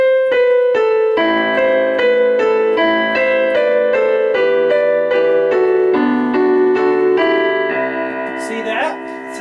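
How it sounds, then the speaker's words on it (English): A short melody on piano from a song, struck notes in a steady rhythm, then a synthesizer takes over with held, brighter tones that end in a brief sweep. "So if we played the piano part to start off, and then jumped here and did the synthesizer part"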